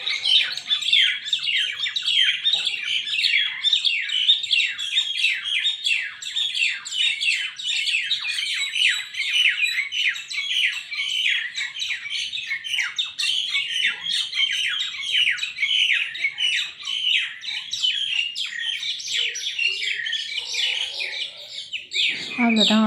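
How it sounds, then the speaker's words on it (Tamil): Outside a house in the morning, a crowd of birds chirps and squawks continuously in dense, overlapping calls, loud and close. A voice speaks briefly near the end. "இன்றைக்கி எங்கள் வீட்டில் காலையில் இந்த பேர்ட் சத்தம் கேட்டது."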